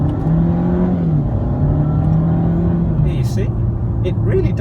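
A Mercedes C180 W204 with a RaceChip XLR tuning module pulls hard in manual mode, its engine note climbing steadily and dropping at quick gear shifts, heard from inside the cabin with a continuous loud drone.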